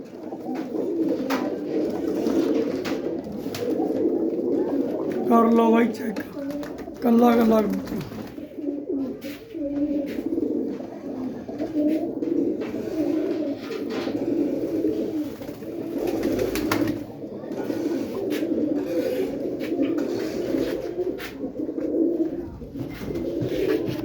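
Pigeons cooing close by in a bird-sale setting, a few soft repeated coos rising out of a murmur of people talking nearby.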